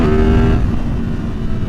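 A 2023 Yamaha MT-10 motorcycle with a Leo Vince decat exhaust and Moore Mafia flash is accelerating hard, giving a loud, close engine roar whose pitch shifts briefly as it pulls through the gears.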